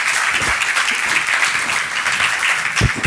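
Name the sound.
audience applause for the masterclass speaker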